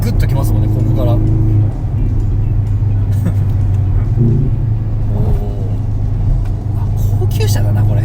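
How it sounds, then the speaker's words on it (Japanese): Mercedes-AMG C43 wagon with a turbocharged engine, heard from inside as a loud, steady engine rumble and road roar under continuous conversation between occupants. "ターボの立ち上がりは確かに速いですね"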